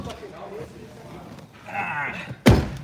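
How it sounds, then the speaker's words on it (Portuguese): A car door, on a Mazda RX-8 in Las Vegas, slams shut with a single sharp, loud thud near the end, following Portuguese conversation inside the car. "Ele fechou a porta."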